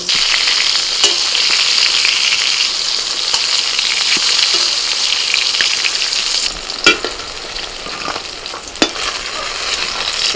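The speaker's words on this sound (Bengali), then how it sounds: "এপিট ওপিট উল্টে বেগুনগুলোকে একটু লাল করে ভেজে আমি তুলে নিচ্ছি।" Eggplant slices sizzle and fry steadily in hot oil, a loud continuous crackle with a few sharper pops and stirring scrapes near the end, no voices present.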